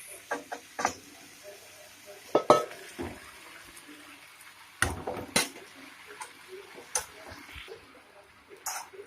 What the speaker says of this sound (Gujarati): હવે આપણે નાખીશું એમાં પાસ્તા